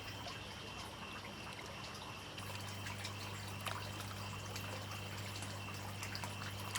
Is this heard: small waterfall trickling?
yes